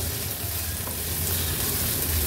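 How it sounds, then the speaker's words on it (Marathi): Medium onion with chopped chillies frying in oil on a low flame for a Maharashtrian veg thali, a close, steady, dense sizzle with no talking. "कांदा व्यवस्थित शिजवून घ्यायचा आहे तेलावर।"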